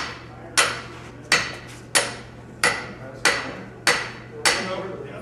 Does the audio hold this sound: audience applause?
no